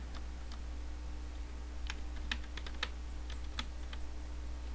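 Keys click on a computer keyboard in a short run of light, crisp taps, some spaced and some in quick clusters, close by over a low steady hum.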